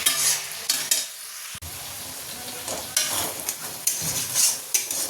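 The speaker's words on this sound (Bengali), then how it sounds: "তো চলো এটাও মশলাটা কষিয়ে নিয়ে আর এগুলো সব দিয়ে দিলেই হয়ে যাবে।" Spice masala being stir-fried in a pan, loud close sizzling broken by repeated scraping stirs of a spoon, with a brief pause near the start.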